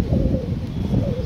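A baby pigeon from a home breed, recently hatched, gives a soft low cooing murmur that keeps up steadily for a moment, close by and with no talk over it.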